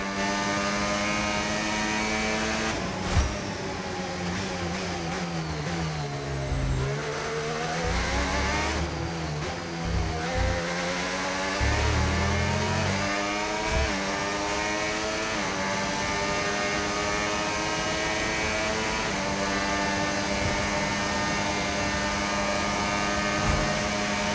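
Formula 1 cars in the racing game F1 25 roar away under green flag, engines revving up and down through gear changes with sweeping harmonic whines, loud and continuous with a few sharp clicks.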